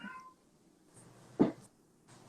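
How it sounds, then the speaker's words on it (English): A single short cat meow in a quiet room, faint but distinct, heard alone with no talk over it. "I heard a cat."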